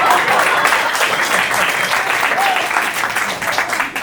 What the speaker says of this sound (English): I like the way you clapped at them